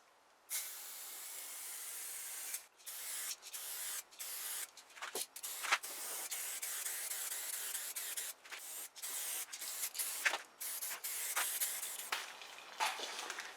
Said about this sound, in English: Okay, that was about 3 coats of the base coat.